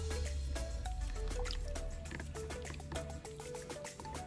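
Eyeglasses being rinsed with plain water, close trickling and dripping with repeated small droplet plinks over a steady wash of running water, no voices.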